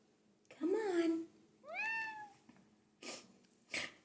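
A cat meows several times indoors, a drawn-out low meow followed by a higher rising call and two shorter chirpy bursts, close and fairly quiet with pauses between.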